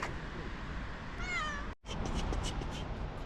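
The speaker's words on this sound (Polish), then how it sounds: "Jaki fajny jest ten kotek." A kitten gives a single clear meow partway through, close by, over steady outdoor background noise.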